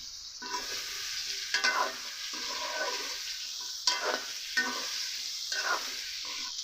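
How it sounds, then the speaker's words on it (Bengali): Cubed pumpkin frying in hot oil with bay leaf and panch phoron, a steady close sizzle broken by several scraping stirs of a spatula against the pan. "তেলের মধ্যে দিয়ে দিব তেজপাতা দিব সামান্য পাঁচ ফোড়ন এবার দিয়ে দেব কুমড়া সবগুলো ঢেলে দিব"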